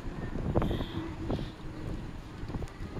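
Wind gusting beneath a highway bridge on a hot day, a steady low rumble of buffeting air with rustling bursts, loud and close throughout.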